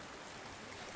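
A brief, even rush of stream water in the Hellblade game, dense and continuous with no other sound.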